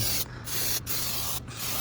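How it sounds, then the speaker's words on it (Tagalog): Baygon insecticide is sprayed from an aerosol can before bedtime, three long hissing bursts separated by brief gaps, loud and close, with no talking. "So mag-spray tayo ulit all over bago tayo matulog."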